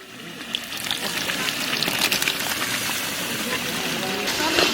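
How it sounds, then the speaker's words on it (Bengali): Fish curry spice paste fries in a pan with a steady, moderately loud sizzle and bubbling that builds slightly over a few seconds, with no talking. "মাছের মশলা কষানো হয়ে গেছে"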